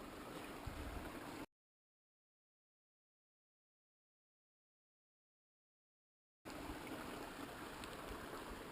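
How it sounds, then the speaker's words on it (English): Creek water flowing steadily at a trail campsite near Mount Hood on the Pacific Crest Trail, a continuous broadband rush, with a long stretch of dead silence splitting the clip in the middle. "It's a good creek."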